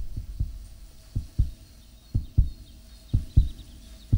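Heartbeat sound in a film, a regular paired lub-dub thumping, deep and loud, repeating about every second over a faint hum.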